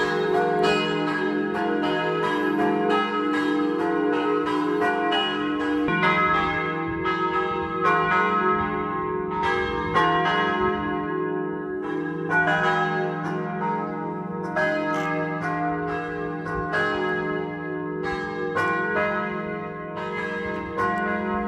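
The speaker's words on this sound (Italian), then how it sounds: "mentre sfuma il suono delle campane" Church bells peal steadily and loudly for the whole stretch during a Palm Sunday prayer service, with overlapping harmonic strikes ringing out in a continuous wash and no voices over them.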